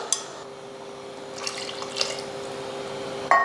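Water is poured into a cooking pot of rice for mushroom biryani in a thin, steady stream, quiet and close, with a few soft clinks of metal.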